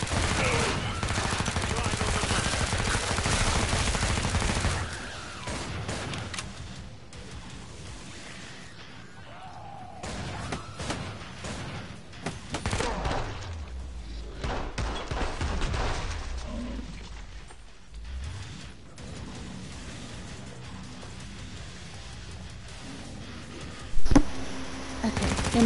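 Gunfire in the video game Killing Floor 2, with rapid bursts and fusillades of shots, mechanical clatter and reload sounds, loud at first then sparser, with a sharp bang near the end and a voice talking at times.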